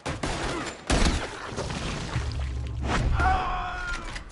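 Gunfire in the video game Red Dead Redemption 2, a dense, loud barrage of overlapping shots and heavy thuds across a busy mix.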